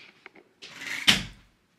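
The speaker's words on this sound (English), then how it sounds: "Close the door" A household door swings shut with one firm thud and a brief rush of air, preceded by a few light clicks and rustles, then quiet.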